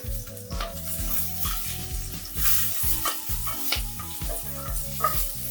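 Fresh green onions hitting a hot pan with toasted garlic, a loud steady sizzle broken by rhythmic scraping strokes of a utensil stirring, close and alone.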